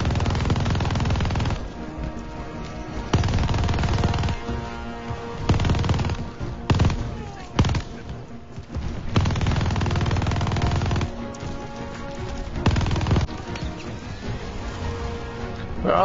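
Loud machine gun fire from Call of Duty: Vanguard comes in long sustained bursts with short gaps between them, close and dominant, with no voices over it.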